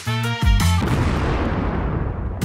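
A single loud boom-like explosion effect bursts out hard, then trails off in a long rumbling decay, with no voices.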